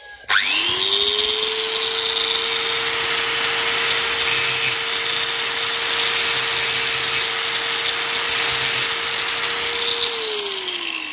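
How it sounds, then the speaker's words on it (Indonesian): An angle grinder spins up to a steady high whine grinding a hacksaw blade, holding it for about ten seconds, loud and close, before winding down. "Kita gerinda dikit aja untuk dudukannya biar lebih mudah ya kalau masih baru."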